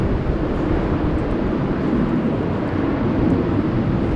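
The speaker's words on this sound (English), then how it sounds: "There's a line cutter that is taking off in front. That's an Embraer 175 Red Wine Express to Bordeaux." An Embraer 175 jet takes off at Amsterdam Schiphol in windy weather, heard as a steady broadband roar at moderate distance without talk.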